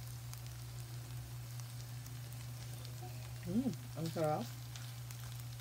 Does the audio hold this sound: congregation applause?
no